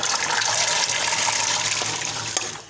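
Peas tumbling into cold water with ice, a close, continuous splashing and sloshing rush lasting a few seconds with no talking.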